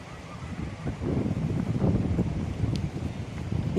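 Strong wind gusting through a flower garden, a steady rushing roar close to the microphone that swells and buffets throughout, with no other clear sounds.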